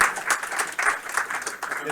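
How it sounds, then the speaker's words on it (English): Applause from an audience at a game studio build review, moderately loud clapping in uneven bursts with voices audible underneath. "Ian, why don't you come down and get a round of applause."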